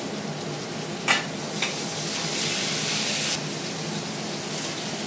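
Green chili and garlic tossed into hot oil in a pan for Bengali aloo dum, giving a steady close sizzle with a couple of brief sharp spits and a louder hissing surge midway, and no talking.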